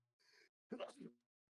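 A single loud sneeze from an adult, preceded by a short sharp intake of breath, close to the microphone in a quiet room during a podcast stream.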